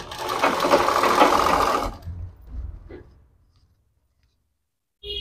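Electric sewing machine stitching fabric for a net-and-border hand design, a close, loud steady whir of stitching for about two seconds, then a few softer slow stitches, a pause and a brief click.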